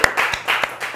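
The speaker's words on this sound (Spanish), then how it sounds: "Así que un aplauso para ellos." A few people clap in a quick, uneven burst of applause, sharp hand claps close by and fairly loud, lasting only a moment.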